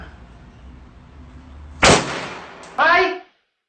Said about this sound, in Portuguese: o barulho de um tiro ecoou